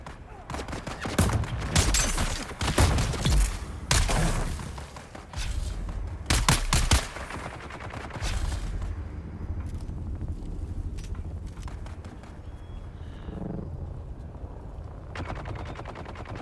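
Bursts of sniper and automatic gunfire in the video game Dune Awakening, several loud volleys in the first seven seconds, then a quieter stretch of distant shots and rumble.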